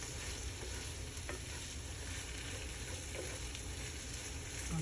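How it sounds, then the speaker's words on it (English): Carrots and onions are being stirred together in a pan for a vegan shepherd's pie, a continuous soft sizzle and scraping stir that stays steady and close without talk. "now we're going to mix the carrots and the onions in with them"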